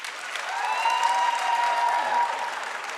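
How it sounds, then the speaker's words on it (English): A debate audience claps to cast a vote on the motion that business will never be brave, a brief swell of moderate clapping that rises and fades within a few seconds. "if you disagree and think businesses will be brave, please clap now."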